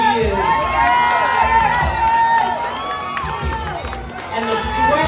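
A live crowd cheers and shouts loudly and steadily for an escape artist chained in a straitjacket, with whoops and children's yells rising and falling throughout.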